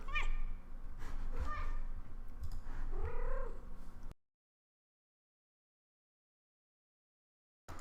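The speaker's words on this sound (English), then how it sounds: "My cat is here." A house cat purrs and meows close by during the first four seconds, with a person talking over it, then silence.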